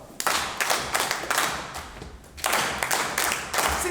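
Group hand claps in a syncopated soul-clap pattern at a Harlem celebration, crisp and close, with a brief pause in the middle before the rhythm resumes.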